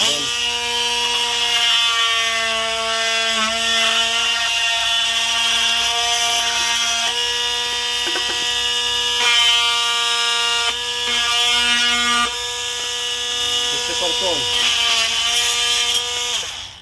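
A loud, high-pitched buzzing whine of a Vitals AMi 1815Pq cordless multitool cutting wood, steady with brief dips as the blade bites, close and without voices.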